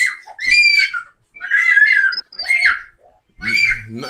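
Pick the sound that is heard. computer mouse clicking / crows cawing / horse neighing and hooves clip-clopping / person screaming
person screaming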